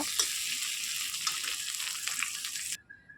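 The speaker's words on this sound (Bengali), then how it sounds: "আলুটা দিয়ে দিলাম আলুটা একটু ভেজে নিই" Potatoes sizzle steadily in hot oil in a kadai, a continuous close frying crackle with a few sharper pops, cutting off abruptly near the end.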